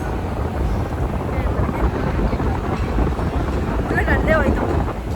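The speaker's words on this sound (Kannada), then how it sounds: "ಫುಲ್ಲು ಗಾಳಿ ತಗೋತಾ ಇದ್ದೀನಿ" Wind buffets the microphone while riding outdoors, a constant loud roaring rumble with a faint voice briefly audible beneath it.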